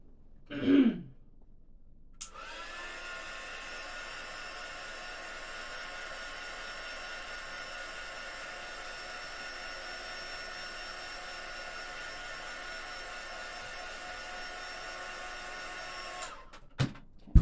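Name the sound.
hair dryer drying painted zipper charms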